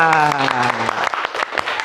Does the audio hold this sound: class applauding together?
yes